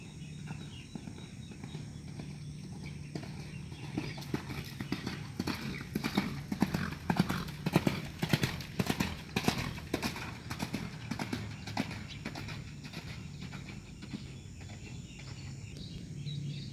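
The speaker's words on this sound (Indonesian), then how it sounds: "sekarang ada salah seekor kuda ya dengan posisi larinya center nih" A racehorse gallops on the Sumedang racetrack during training. The rapid hoofbeats grow louder toward the middle as it passes close by, then fade away, with faint birds and ambient outdoor noise behind them.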